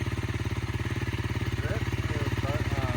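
A motorcycle engine idles close by in a steady, even pulsing rhythm, with a person talking briefly over it.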